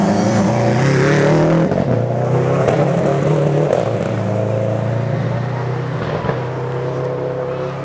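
A rally car engine roars loudly up close on a rally stage and then fades as it passes, with a steady low drone and spectators' voices faintly mixed in.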